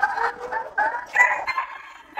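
A jungle fowl rooster with patchy, plucked feathers crows nearby in a series of loud, hoarse, broken calls, heard alone without talk.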